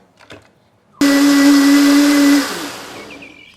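A blender runs on maple syrup and strawberries with a loud, steady whirring whine that starts abruptly and holds for under two seconds, then drops to a lower winding-down hum, preceded by faint handling noise.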